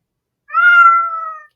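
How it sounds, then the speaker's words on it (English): A cat meow sound effect is played by a programmed robot, a single clean, drawn-out electronic meow lasting about a second, loud and alone with no background noise. "it just played the cat meow"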